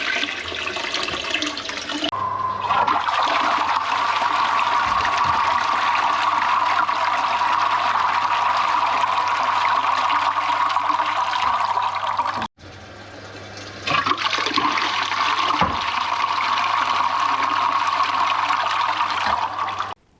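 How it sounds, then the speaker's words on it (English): Toilets being flushed in succession during a drain repair test, loud rushing water and refilling that runs steadily, cuts out briefly, then resumes with another flush. "What I'm going to do is flush this toilet, flush the other toilet, flush this toilet again,"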